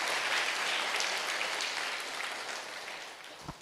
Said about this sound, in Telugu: వీరందరికీ ఒకసారి గట్టిగా చప్పట్లు కొడదాం.